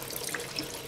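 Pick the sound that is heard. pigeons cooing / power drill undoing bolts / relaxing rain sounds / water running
water running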